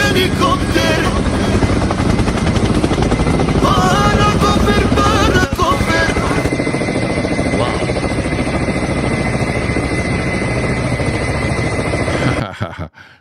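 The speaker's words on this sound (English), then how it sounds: "Helicopter, helicopter." A helicopter roars loudly and steadily with rapid rotor chopping, its pitch shifting midway before the sound cuts off abruptly at the end.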